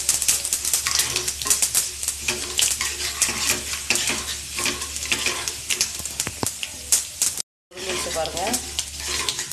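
Mustard seeds, cumin and fennel dry-roasting in a pan with steady crackling and sizzling, stirred now and then with a scraping spoon, close and fairly loud, broken by a brief cut to silence near the end.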